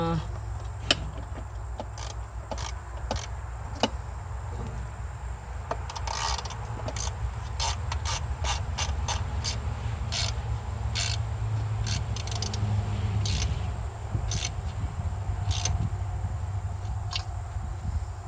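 A ratchet clicks in short bursts, tightening valve cover bolts on a Ford Maverick with a 5.0 engine, with sharp metallic ticks over a steady low background hum and occasional faint talk.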